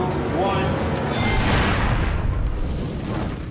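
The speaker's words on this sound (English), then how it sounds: "This flash fire isn't just igniting the flour in the room, it's burning up all the oxygen, too." A flour dust flash fire set off by an air cannon inside a room erupts as a loud, sustained roaring whoosh that swells and rumbles, then slowly eases off.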